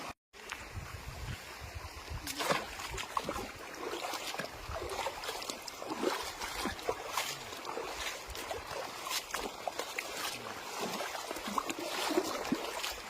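Nearby river water flows steadily past the bank near a rural plot, a continuous rushing wash with small splashes and trickles, close and moderately loud, with no voices over it.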